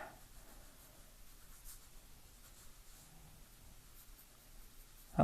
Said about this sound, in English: let's erase some of that.